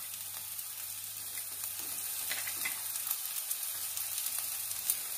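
Carrot, cauliflower and beans fry in a pan for a mixed vegetable soup, giving a steady, even sizzle that runs throughout with faint crackles and no talking.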